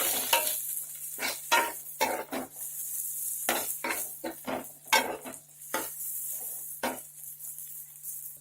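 Chopped spring onions hitting a pan of lightly browned onions for a small fish curry, with repeated scraping stirs over a steady close sizzle, the spatula strokes coming in uneven bursts and no voices.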